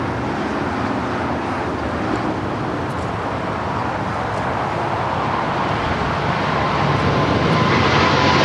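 A Boeing 777 freighter rolling down runway 25 Left at LAX for takeoff, a loud continuous broadband jet roar that swells slightly toward the end, close and steady with no voice.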